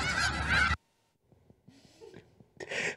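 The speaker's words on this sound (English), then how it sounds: "Look at all those chickens." Geese honk loudly in a sharp, close burst that stops abruptly, followed by softer scattered honks and breathy sounds before another loud honking burst.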